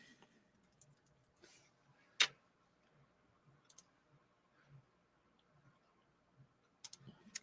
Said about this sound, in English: I'm typing in super slow motion